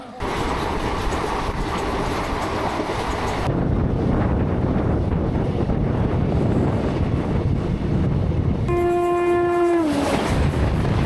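Loud rumbling of the Aranyak Express train at close range at a station with heavy wind buffeting, then a sustained horn blast near the end that slides down in pitch.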